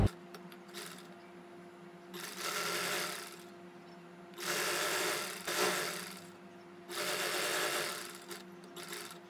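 A sewing machine runs in three separate bursts of steady stitching on a lace seam, with quiet pauses between runs; close and fairly loud, no talk.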